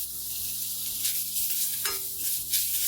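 Grated coconut dry-roasting and being stirred in a pan for pidi kozhukattai, a soft continuous sizzle with scraping stirs, steady and close, with no voices.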